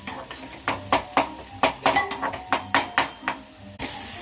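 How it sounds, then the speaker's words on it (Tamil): Onions with a little salt sauté in a small amount of oil, a soft sizzle under repeated sharp clinks and scrapes of a spoon stirring against the pan, close and fairly quiet. "கொஞ்சோண்டு எண்ணெயிலே நல்லா வதங்கட்டும்"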